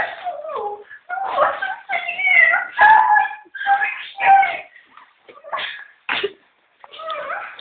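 A dog makes a run of close whimpers, yips and snorting sneeze-like sounds in bursts with short pauses, loud and indoors, with a person's voice mixed in.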